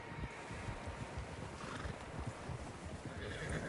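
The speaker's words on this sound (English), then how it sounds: "Horses, quite a few of them." Several horses in Red Dead Redemption 2 clip-clop steadily along with occasional whinnies, hooves thudding in a loose, overlapping rhythm at moderate distance.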